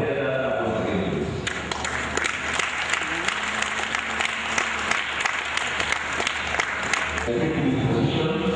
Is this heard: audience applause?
yes